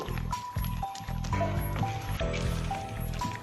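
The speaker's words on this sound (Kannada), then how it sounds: "ಒಂದೆರಡು ನಿಮಿಷ ಹಿಂಗೆ ಮಿಕ್ಸ್ ಮಾಡ್ಕೊಳ್ಳಿ" Chicken kebab pieces are mixed by hand with spice masala, giving wet, squishy squelches in a steady rhythm, close and fairly loud, with background music tones running throughout.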